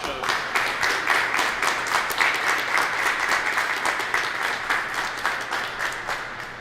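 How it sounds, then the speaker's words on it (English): Steady, dense applause from a press conference audience for Nissan at a Move Mississippi Forward event in Mississippi, loud and close, sustained evenly for several seconds with no talking over it. "Let's give you a round of applause."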